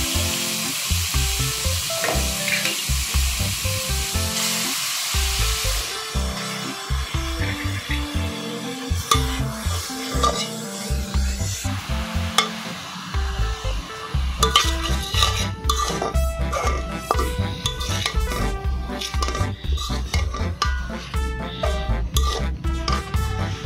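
Carrots frying in ghee with cardamom and cinnamon over a low flame, with a steady soft sizzle. A utensil repeatedly stirs and scrapes against the pan, and there are brief clatters of cookware.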